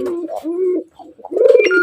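A pet bird in its cage gives a short run of low, throaty cooing calls, close and clear, with a brief pause before a louder final phrase.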